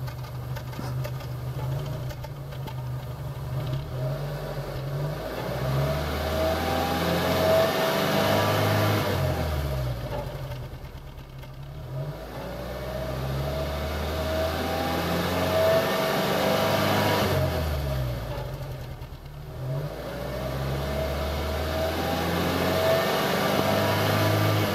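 A Nissan Almera G15 engine with 93,217 km revs repeatedly during an exhaust check, rising and falling in several long, swelling pulls that are close and clear, with no talking.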